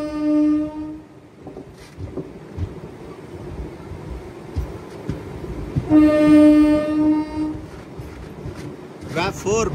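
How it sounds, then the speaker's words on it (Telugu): An Indian Railways train hauled by a WAP 4 electric locomotive with ICF coaches passes close by, its rumbling wheels and wind noise joined by a loud sustained horn in the middle of the clip, with people talking. "WAP 4 locomotive with ICF coaches."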